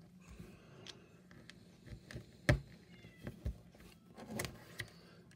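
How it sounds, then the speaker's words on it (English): A cat meows faintly a few times in the distance amid quiet background clicks and rustles. "the family cat is meowing at some door"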